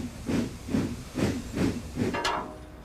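Steam engine Emily puffs away in an animated children's show, five evenly spaced hissing chuffs in a steady rhythm, followed by a sharper burst of steam at the end.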